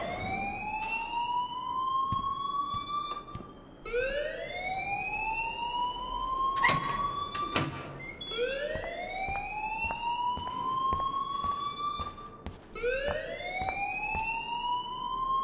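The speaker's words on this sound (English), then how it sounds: "please turn off that alarm since that's your job" An alarm rings in the video game Life Is Strange, a rising electronic whoop that sweeps upward and repeats roughly every four seconds, steady and fairly loud with no talk over it.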